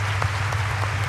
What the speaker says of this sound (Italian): un applauso a Corrado